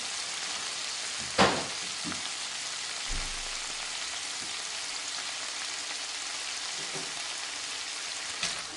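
Frozen peppers fry in a pan with a continuous soft sizzle, punctuated by a few sharp clatters and clicks as the pan or utensil is moved.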